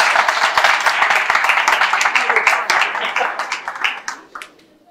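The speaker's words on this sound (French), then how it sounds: "Applaudissez pour le premier." An audience at a youth talent contest finale in Côte d'Ivoire claps loudly in a crisp, close patter of individual hand claps that thins out and fades near the end.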